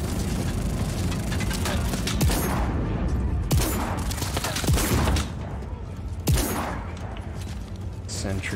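Automated sentry turrets firing in Just Cause 4, sharp repeated bursts of gunfire cutting through a dense, loud game mix with engine rumble and other noise, occasional louder shots standing out.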